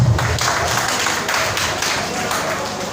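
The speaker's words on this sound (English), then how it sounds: "A round of applause, please." Steady applause fills a gala award night at a founder's day celebration, a dense wash of clapping hands holding at even loudness throughout with a murmur of crowd underneath.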